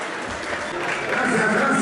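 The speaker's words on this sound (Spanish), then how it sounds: "Otros aplausos, por favor, para las señoritas." Audience applause for a group of young women at a women's convite dress rehearsal in Chicamán, Quiché, a broad steady wash of clapping that swells toward the end, with crowd voices mixed in.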